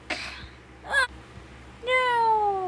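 Cartoonish cat meows come from The Battle Cats video game: a short meow, a second brief one, then a longer drawn-out meow, each clear and close over a quiet background.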